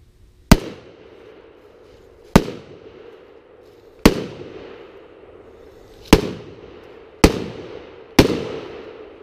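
An AK-47 rifle fires at targets outdoors: six loud, sharp single shots spaced about two seconds apart, each followed by a short ringing decay, with no talking.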